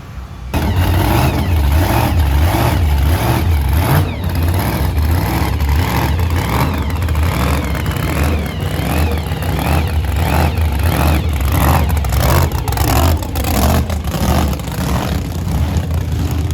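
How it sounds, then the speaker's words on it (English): Chevy Nova no-prep race car engine revving during a burnout, a loud continuous throaty roar with repeated rises and falls in pitch over about sixteen seconds, close to the microphone and free of speech. "do a burnout"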